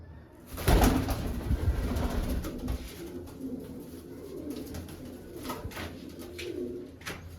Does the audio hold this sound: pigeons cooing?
yes